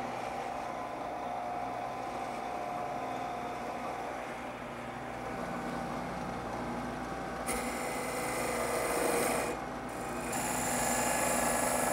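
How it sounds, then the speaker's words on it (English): A wood lathe spins up to a higher speed for the final cut on a drop leaf table part, giving a steady whirring hum with a brighter, louder cutting hiss in the second half and a short break near the end. "I'm going to speed up the lathe a little bit and make the final cut."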